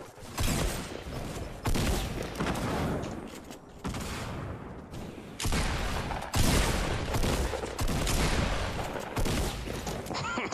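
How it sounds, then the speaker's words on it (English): An LMG fires in long, rapid bursts during a Fortnite match, loud and close, with a few brief pauses between strings of shots. "I'm gonna rock out the LMG for close."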